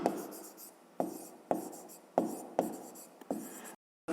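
Pen strokes writing out a math formula on paper, a series of about seven short scratchy bursts in an uneven rhythm, close and quiet with no talking.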